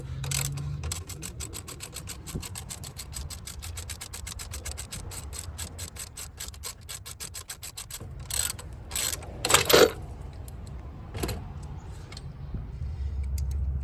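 Ratchet clicking rapidly and steadily while loosening a 10mm bolt on the alternator of a Ford F250, with close metallic ticks and a few louder knocks and scrapes near the end.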